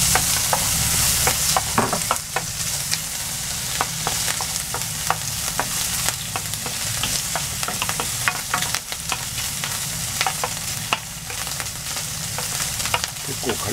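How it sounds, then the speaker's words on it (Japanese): Bacon frying in butter in a pan until crisp, for a chicken cream stew: a steady, close sizzle and crackle with frequent light scrapes and clicks from stirring, no voices. "結構カリカリになるまで炒めます。"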